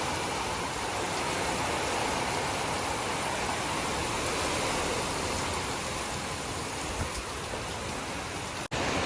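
Heavy, steady rain drumming down on a shed roof, a dense continuous patter that stays loud and even throughout with no voices.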